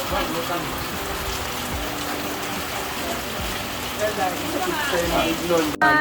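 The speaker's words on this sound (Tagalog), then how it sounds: "Alas 3 pa ng hapon pero ulan na." Steady rain pours down, a dense hiss of drops falling on surfaces, continuous and fairly loud throughout.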